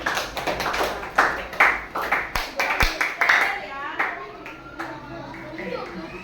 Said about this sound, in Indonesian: Kasih tepuk tangan dulu. Anak-anak.